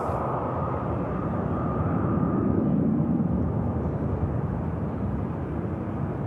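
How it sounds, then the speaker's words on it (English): A Finnair airliner taxies at Manchester Airport, its jet engines giving a moderate, steady rumble with a faint whine that swells slightly midway and then holds. "There goes the Finnair."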